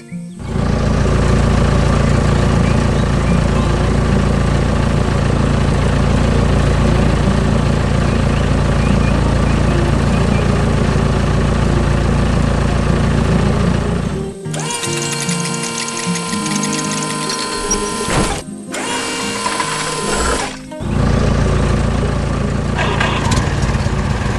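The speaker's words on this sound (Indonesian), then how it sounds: "Mesin konstruksi hijau sedang bekerja keras di tanah berwarna coklat." A green construction machine works hard on brown earth on a farm, its engine roaring and droning steadily before the noise breaks into choppy, interrupted bursts.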